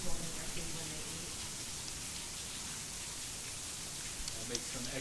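Steady rain falls outdoors around a prehensile-tailed porcupine enclosure, an even broadband hiss of drops on surfaces that continues without pause and covers any quieter sounds.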